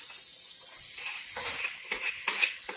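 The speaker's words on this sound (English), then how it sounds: "So you just basically gonna fry your bacon until it's cooked in here, just like this" Half-inch bacon pieces frying in a pan give a steady, loud hiss of spattering fat, with sharper crackles and pops surfacing in the last second, and no voices.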